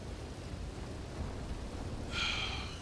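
Low rumbling thunder fills an outdoor scene in a roleplay video game, a steady loud roll with a brighter crackle swelling near the end, no voices.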